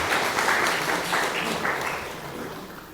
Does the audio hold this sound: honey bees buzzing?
no